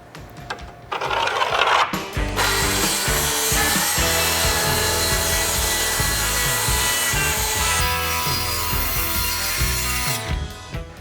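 Steady, loud sawing through a sheet of plywood for a mobile workbench, a continuous rasping cut of about eight seconds that starts and ends abruptly, with no talking.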